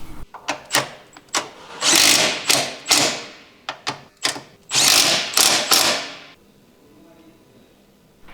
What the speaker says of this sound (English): Use the impact wrench and 13mm socket to fully tighten the bracket bolts.